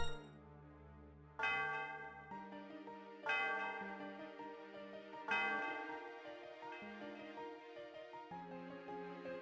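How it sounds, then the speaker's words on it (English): In the Pokémon town of Mistralton, a bell rings out in a slow series of clear struck tones, each strike blooming with rich overtones and ringing on as it fades, with a soft melodic chime pattern continuing between strikes. "Sound of the bell reverberates through the area."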